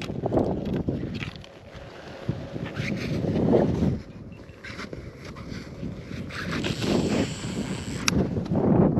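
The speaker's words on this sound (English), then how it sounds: "It is windy out." Steady wind rushes and buffets against the microphone outdoors at a lake, with low rumbling gusts swelling and easing throughout, near and fairly loud.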